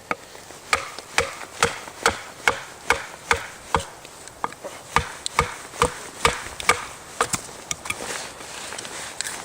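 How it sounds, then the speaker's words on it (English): A knife batoned through dry red oak firewood at a snowy camp: a regular series of sharp, woody knocks, about two a second, close and clear, with no voices. "I'm going to use this to actually baton with for my firewood."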